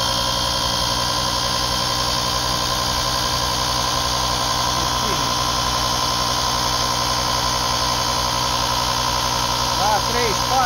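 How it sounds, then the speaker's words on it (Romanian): Built-in air compressor of a Utrai Jstar 5 jump starter running next to a car, a loud constant mechanical drone with a steady buzzing hum that holds unchanged throughout, no pauses or speech. "Zgomotul este unul foarte frumos, se aude foarte bine, îmi place cum sună acest compresor."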